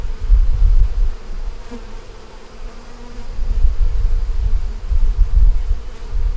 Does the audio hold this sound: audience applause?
no